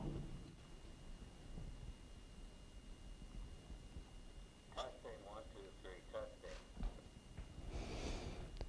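Faint, thin, tinny music plays from a phonograph reproducer with no horn, barely rising above a steady hiss and surface noise.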